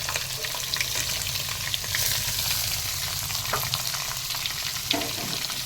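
Onions and green chillies frying in a pan for a mushroom roast, a continuous close sizzle with a low bubbling crackle, broken by the soft scrape of stirring and a few light utensil knocks.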